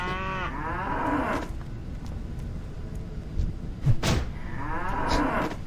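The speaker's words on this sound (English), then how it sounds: "Then I killed some cows." Cows mooing in the World of Warcraft Classic video game, two long, loud lowing calls with a gap between them over a steady background, mixed with brief thumps and no talking.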